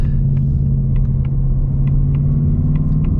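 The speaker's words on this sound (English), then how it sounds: "I'm gonna warm up the tires right now." A Ford S650 Mustang GT on stock wheels and tires warms up its tires, giving a loud, steady low engine rumble close by that holds throughout, with faint light ticks above it and no talking.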